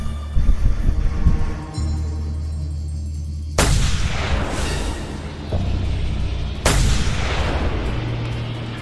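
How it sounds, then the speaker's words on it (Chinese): Two sharp missile explosions boom close by in the Just Cause 2 video game, each a sudden blast followed by a rumbling decay over the game's engine background. "我刚刚是听到一个飞弹在我旁边爆炸的声音"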